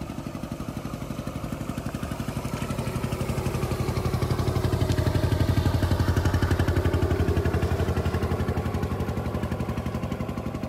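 A boat's motor engine starts and runs steadily with a rapid, throbbing chug, swelling slightly louder midway and then settling, close by on the Bidyadhari River, continuous with no voices.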